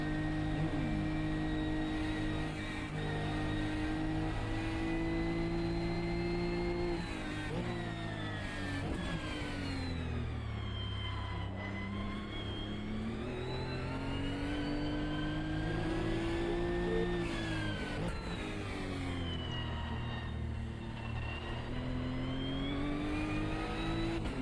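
A GT3 race car engine lapping Road America in a sim racing game, a loud continuous close-up drone that rises and falls through upshifts and downshifts, with repeated revving sweeps as the car brakes and accelerates through corners.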